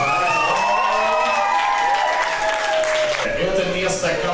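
A crowd applauds and cheers at a birthday party, steady clapping throughout with voices and shouts mixed into the noise.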